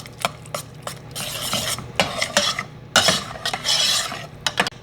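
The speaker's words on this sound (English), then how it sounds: "And we add just a little sugar. We mix well." A spoon stirs tomato sauce with a little sugar in a pot, giving irregular scraping and clinking strokes with soft sizzling between them, close and moderately loud, with no talking.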